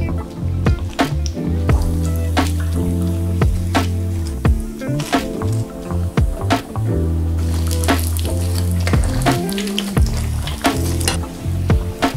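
Japanese korokke croquettes fry in hot oil, giving a loud, close crackle with many sharp pops over a rumbling bubble. It keeps going for about twelve seconds with no talking.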